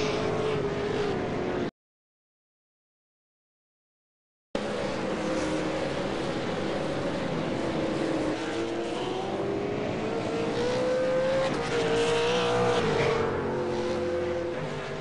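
V8 Supercar race cars run at Sonoma, and their engines scream loud and near, rising and falling through the gears as they pass. The sound drops out briefly, then a sustained roar returns with shifting engine pitch.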